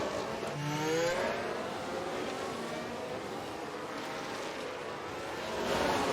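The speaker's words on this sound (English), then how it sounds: "We can hear the cars now." Race cars in the F1 Manager 23 video game, a continuous engine roar with a rising whine near the start, then a steady blended drone of several cars running on track.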